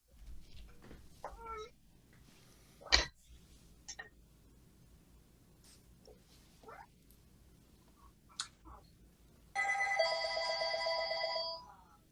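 A phone rings with a steady electronic trill lasting a couple of seconds, heard in a quiet room after scattered soft clicks, small knocks and brief faint voices.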